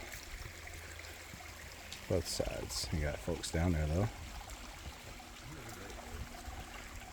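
Creek water running down a small natural rock water slide in the Arkansas Ozarks, a steady broad rushing wash throughout, with someone talking briefly over it.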